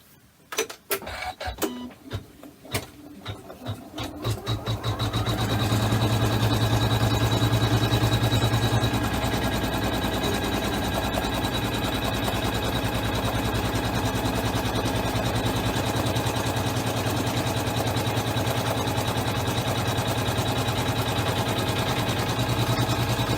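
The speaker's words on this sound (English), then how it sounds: "It's going to sew the whole outline all the way around. So I will let it run for a little bit" A computerized embroidery sewing machine stitches the full outline of a quilted fabric basket, a steady rapid mechanical whir with rhythmic needle clatter that starts after a few sharp clicks and runs continuously at close range.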